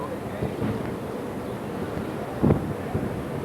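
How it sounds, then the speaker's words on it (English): Steady rumbling wind buffets the microphone at Roman ruins throughout, with a brief louder gust near the end. "Very, very windy at the moment."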